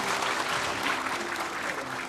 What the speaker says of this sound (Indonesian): tepuk tangan dulu buat Demian